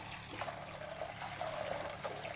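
Water pours steadily into a pot of lentils with turmeric, chilli powder and curry leaves, a continuous close rushing splash lasting the whole short stretch.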